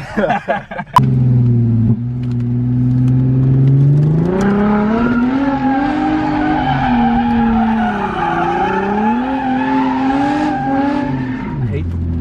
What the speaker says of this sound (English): Burnouts.